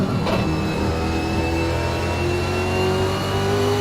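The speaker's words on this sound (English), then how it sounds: "You can hear him playing with the gears here to try and get this car stable onto the power" A supercar engine in a racing video game revs steadily at high pitch, with a brief shift in tone early on as gears change, loud and continuous throughout.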